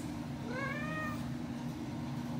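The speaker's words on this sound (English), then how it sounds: "So that's Bunny, a cat named Bunny" A house cat gives a single clear rising and falling meow, close by, over a steady kitchen background hum with pancakes cooking on the stove.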